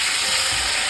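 Vegetables for milk shukto frying in a pan, a steady broadband hiss and sizzle running continuously and fairly close for a brief moment with no voices.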